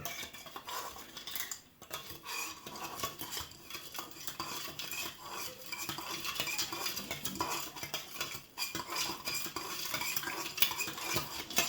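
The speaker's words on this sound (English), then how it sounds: "You stir completely until it has dissolved." Contact adhesive gum mixture stirred in a container, giving a continuous close scraping and clinking of the stirrer against the sides with a brief pause early on. No voices.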